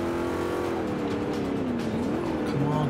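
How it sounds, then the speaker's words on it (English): A race car engine in the Xbox One game Forza Motorsport 5 drones loudly and steadily, its pitch rising and dipping with gear changes over a constant road roar, with no talk. "I think the engine sounds in this game are a lot better as well"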